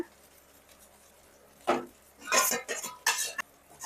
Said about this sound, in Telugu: హై లోనే పెట్టుకొని ఫ్రై చేసుకుంటే మనకి ఫ్రైడ్ రైస్ అనేది మంచిగా వస్తుందండి